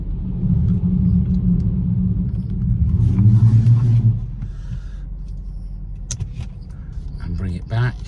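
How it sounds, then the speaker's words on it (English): BMW 118i M Sport Shadow Edition with manual gearbox cranked and started, a loud low rumble of the engine catching and settling into a steady idle, followed by quieter clicks and small cabin noises. "so let's start her up"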